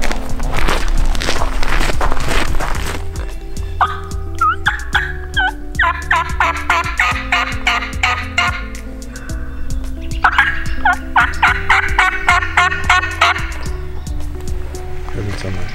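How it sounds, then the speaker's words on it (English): Outdoor scene on an island turkey hunt with footsteps and nearby talking, while wild turkey gobbles rattle out in bursts, some loud and close, others fainter. "One gobble, didn't it?"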